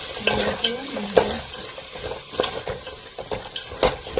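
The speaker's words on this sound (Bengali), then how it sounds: "মশলাটাই মিক্স করে নেবো" Spices being stirred and mixed in a hot frying pan for a French-style dal, with scraping spatula strokes over a steady sizzle, fairly close and without talk.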